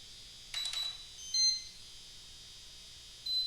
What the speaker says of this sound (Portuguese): agora voltou a fazer o barulho do bip